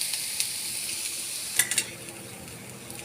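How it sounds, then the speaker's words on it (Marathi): Soft, continuous sizzling hiss as a little water hits a hot griddle, with a few light clicks and a brief louder crackle midway. "थोडंसं पाणी घालून घेऊयात तव्यावरती म्हणजे ते चिकटणार नाही"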